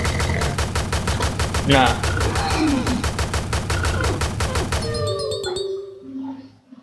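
Rapid, evenly spaced gunshots from the Unity Survival Shooter tutorial game fire in a loud sustained stream for about five seconds, then stop; a voice speaks briefly.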